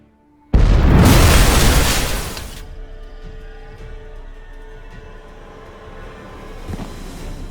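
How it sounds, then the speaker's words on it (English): A loud explosion in The Witcher 3 bursts suddenly with a heavy roaring blast lasting about two seconds, then fades into a low rumbling aftermath and ambient noise. "Damn it, explosion"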